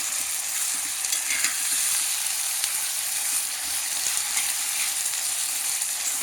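About 200 g of boneless mutton pieces frying in a pan, a steady broad sizzle with scraping stirs running through the whole stretch at moderate level, no voices.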